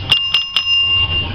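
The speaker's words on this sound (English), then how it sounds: "You got the bell." A bell at an open-air auction rings three times in quick, evenly spaced strikes, each with a sustained bright tone that lingers under a low background rumble.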